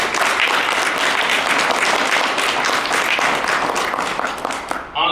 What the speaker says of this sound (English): we should give Hometown Hero and Cynthia a huge round of applause.